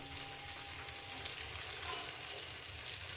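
Potato curry with catla fish frying in a pan, a soft, continuous crackling sizzle with faint stirring scrapes, steady and fairly quiet, no voices.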